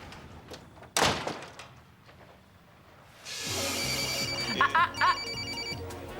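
A cell phone ringtone interrupts a drama scene after a sharp knock or bang: a bright electronic melody that starts mid-clip and keeps ringing loudly and close, with a steady low hum beneath.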